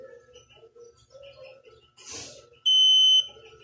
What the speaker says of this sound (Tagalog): Dapat mawala yung buzzer.